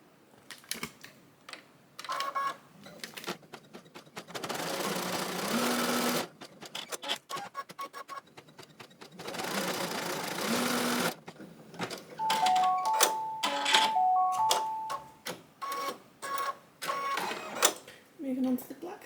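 A sewing machine with an automatic needle threader runs in bursts of rapid mechanical stitching, with short whirring runs, clicks and a few beeps between them, heard close and without speech.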